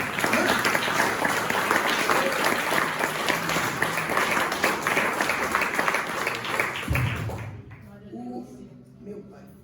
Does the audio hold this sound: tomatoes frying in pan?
no